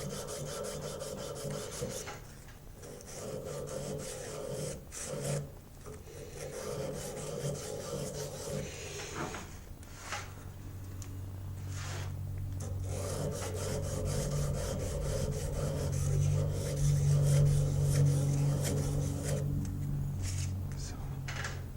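A chainsaw file rasps by hand against the plunge of a knife blade in repeated rough strokes, close and moderately loud, with a low hum and occasional speech beneath.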